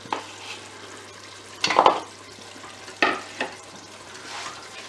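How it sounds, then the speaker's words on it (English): Flour being stirred into melted fat to make a roux in a pan, heard as a few soft scraping strokes and a couple of louder clatters against the pan, close by with a steady low hum behind. "Right, you stir that in now, Nate."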